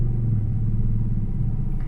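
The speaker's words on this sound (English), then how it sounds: "traffic is now getting heavier" Heavy afternoon street traffic in Cebu City near Carbon Market makes a steady, close, low rumble of engines with no break.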